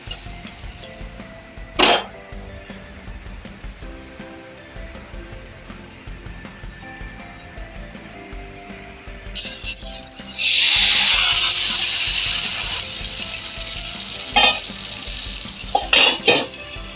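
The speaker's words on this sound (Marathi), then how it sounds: "आता मी तवसळी परतून घेते." Cucumber tavsoli, a Kokani batter cake, cooks in a pan with a soft sizzle and scattered utensil clinks and scrapes, then a louder burst of frying hiss.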